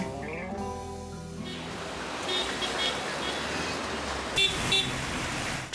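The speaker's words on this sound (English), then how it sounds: "Traffic in Yangon is, let's say, an adventure" Busy street traffic in Yangon, Myanmar, rumbles steadily while several car horns give short toots, a louder pair of honks coming close together near the end.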